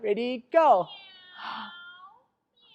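Short speech is followed by children's drawn-out imitated cat meow, moderately loud, fading into quiet.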